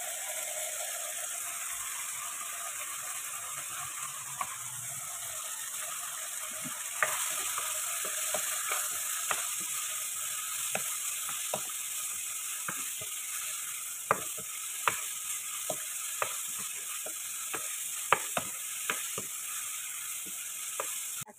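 Chopped medium onion sautéing in a pan for spicy tikka macaroni: a steady soft frying hiss with a quick series of light spatula clicks and scrapes, fairly quiet and close, no talking.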